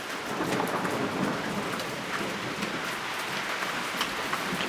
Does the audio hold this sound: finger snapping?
no